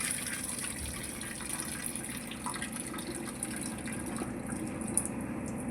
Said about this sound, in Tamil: பாருங்கள், இது வந்து 8வது தண்ணி கழுவுறேன் நான்.